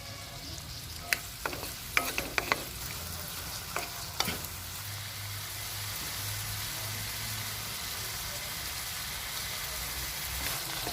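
Tomatoes and red chili powder go into a hot pan for moong dal khichdi, with a few sharp stirring clatters early on, then a steady low sizzle of frying that carries on alone.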